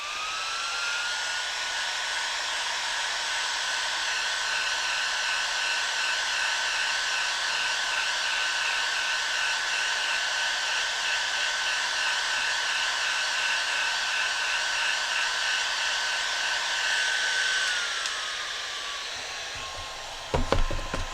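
A Bauer dual-fan-speed heat gun blows steadily for about twenty seconds with a constant whining hiss and airflow roar while heating heat shrink tubing, then winds down at the end.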